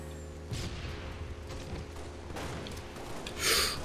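A grenade explodes in Halo Reach, a bright burst near the end following scattered gunfire and mechanical game noise, with no talk.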